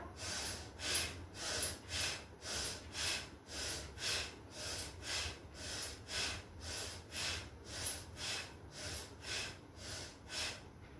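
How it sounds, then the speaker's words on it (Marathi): Deep pranayama yoga breathing: slow, steady inhale-and-exhale cycles repeat about a dozen times in an even rhythm, close and clear, with no talking. "हात वर घेताना दीर्घ श्वास घ्यायचा आहे आणि खांद्याजवळ वागणारा दीर्घ श्वास सोडायचा आहे"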